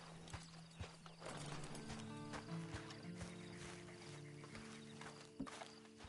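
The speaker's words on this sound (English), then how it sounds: "Then you better get on this horse." Hooves clip-clop at a steady walking pace in Red Dead Redemption 2, close by, with a horse snorting and a faint whinny over a busy background of ambient sound.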